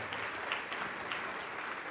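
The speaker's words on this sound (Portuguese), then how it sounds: "Vamos aplaudir mais ao nome de Jesus." Church congregation applause during a sermon, heard as a brief, faint, steady wash of clapping with no distinct individual claps.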